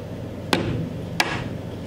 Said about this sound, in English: I use a rubber mallet for my chiseling.